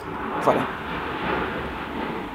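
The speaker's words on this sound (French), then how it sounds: "C'est un avion qui passe." An airplane passing overhead, heard as a low, steady distant roar that swells slightly, with a person briefly speaking early on.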